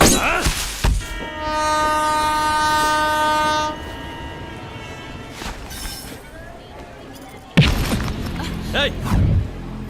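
A train in a film scene: a loud horn blast, then rumbling rail movement with sharp crashes, partly under voices.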